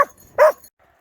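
A farm dog gives a short, sharp bark, close and loud, after a softer opening yelp, then falls silent.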